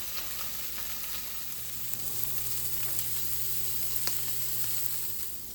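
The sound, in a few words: rolls toasting with Leberkäse sizzling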